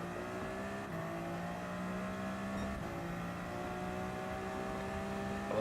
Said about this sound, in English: I love hearing all our horses just idling in the pit lane